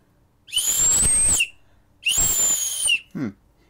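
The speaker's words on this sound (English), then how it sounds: "I am not very good with slide whistle." Two long, steady toots from a slide whistle, each with a slight bend, followed by a short low downward slide.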